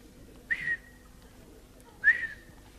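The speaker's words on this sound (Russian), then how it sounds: "Слушай, это ты тут свистишь? Я думаю, кто тут свистит?" A person whistles indoors, two short, clear, high whistled notes about a second and a half apart, each quickly fading, against a quiet background.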